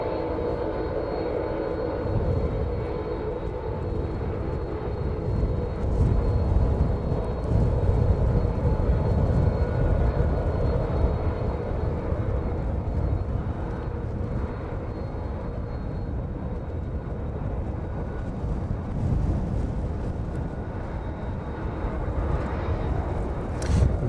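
An aircraft taxiing near the DHL apron at East Midlands Airport, a loud continuous jet engine rumble and whine that holds steady throughout with slight swells, heard alone.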